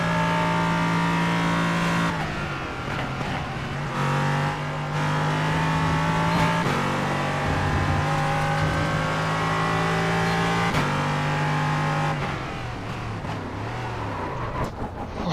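A GTP prototype race car roars past in a NASCAR Pocono race game, its engine note rising and falling through gear changes, loud and continuous for the whole stretch.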